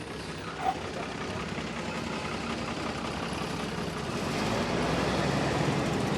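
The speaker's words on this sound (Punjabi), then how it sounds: "ਜੋ ਟਰੈਕਟਰ ਪਹੁੰਚੇ ਨੇ ਇਹ ਸਵਰਾਜ ਕੰਪਨੀ ਦੇ ਨਵੇਂ ਟਰੈਕਟਰ ਨੇ" New Swaraj tractor engines idling in a steady low rumble nearby, growing slightly louder toward the end, with no clear speech.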